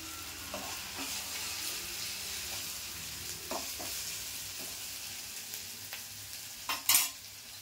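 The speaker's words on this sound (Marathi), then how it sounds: "मी हा हिंग टाकून घेते." Asafoetida dropped into hot oil for a Malvani potato bhaji, giving a soft, steady sizzle with a few light clinks and a brief louder crackle near the end, no voices.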